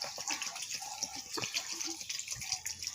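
A little water being poured into a pan of pumpkin stems cooking in a kitchen: a continuous close splashing, trickling pour with no talking.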